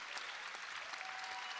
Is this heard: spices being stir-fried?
no